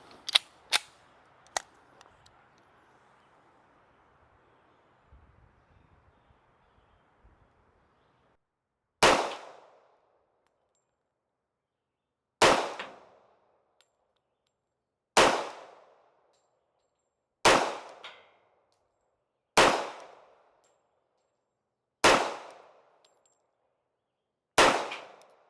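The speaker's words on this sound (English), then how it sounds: "So you guys can see how this pistol shoots before you put in a bid" A WWII-era Ithaca 1911 pistol fires at a target seven yards away: several sharp, loud single shots spaced a few seconds apart, each with a short ringing decay, after some faint clicks and handling noise at the start.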